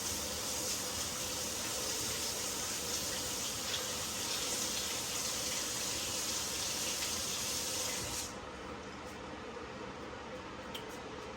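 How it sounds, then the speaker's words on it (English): Water gushes steadily from a kitchen tap during handwashing while cooking sticky chicken, a close continuous rush that stops abruptly near the end, leaving quieter room tone. "let me wash my hands real quick"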